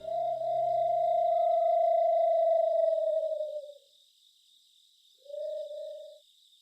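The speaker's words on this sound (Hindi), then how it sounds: "अचानक दूर से उल्लू की आवाज आई" An owl hoots in the distance for a spooky horror tale set around Bhangarh: one long, steady hoot, a pause, then a shorter hoot, over a faint constant high ambient tone.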